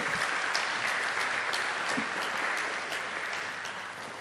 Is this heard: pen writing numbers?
no